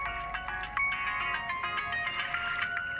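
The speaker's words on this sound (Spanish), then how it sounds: "Su hermana lo está llamando por teléfono." A telephone ringtone plays alone: a bright, repeating electronic melody that rings continuously and fairly loudly.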